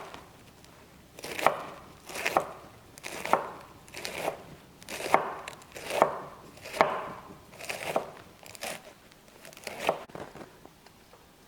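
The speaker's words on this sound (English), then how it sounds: "let's start with shredding our iceberg lettuce. I like it very thinly shredded" A knife shreds iceberg lettuce thinly on a cutting board: about a dozen crisp, crunchy chopping strokes in a steady, unhurried rhythm, close and clear with no talking.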